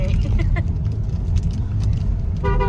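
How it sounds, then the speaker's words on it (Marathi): A car travels at about 120 km/h with a steady, dense road and engine rumble close by, and a brief horn toot sounds just before the end. "आपली गाडी 120 च्या स्पीडला चाललेली आहे"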